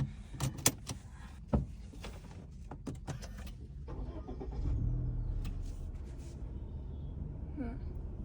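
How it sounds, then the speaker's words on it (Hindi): A car's engine is started by a learner driver, with some clicks and clunks from the cabin followed by the engine catching and settling into a low, steady idle, heard close from inside the car. "क्लच दबा के स्टार्ट करना है गाड़ी।"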